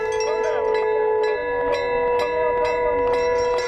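Temple bells ring with sustained, overlapping metallic tones, struck repeatedly in an irregular rhythm over a busy street protest outside a temple in Maharashtra, with kirtan.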